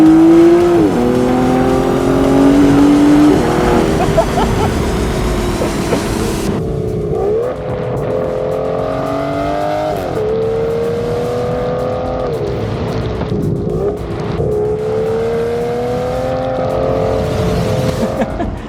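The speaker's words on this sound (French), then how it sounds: "il me semblait important de laisser pleinement s'exprimer ce V12" Aston Martin Vanquish S Ultimate V12 engine revving loudly and close, rising and falling through several sweeping pulls with steady harmonic drone, alone without talk.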